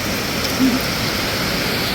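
Heavy rain pours steadily during a storm in Laos, a dense, even hiss that holds at the same level throughout with no breaks and no talk.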